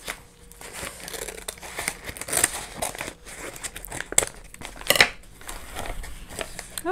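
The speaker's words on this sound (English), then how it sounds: "I'm going to have to snip in at the top, I think." Scissors snip into the top of a plastic envelope holding a printed jelly packet, making a run of close crinkling cuts and crunches with a few sharper clips, sounding alone.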